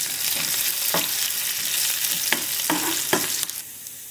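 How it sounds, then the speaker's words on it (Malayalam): Curry leaves hit hot oil while tempering a Kerala-style tomato curry, giving a loud, steady, close sizzle with a few sharp crackles and stirring clinks, fading slightly at the end, with no talking. "കുറച്ച് കറിവേപ്പില ചേർത്ത് കൊടുക്കാം."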